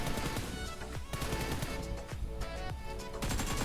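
Rapid gunfire at practice targets in the mobile game PUBG Mobile, with dense repeated shots, some in quick bursts, loud and continuous over a bed of game sound, no voices.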